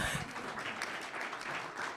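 At a solid waste management authority meeting in Lancaster County, a room applauds softly, with scattered, fairly quiet hand clapping over a brief stretch.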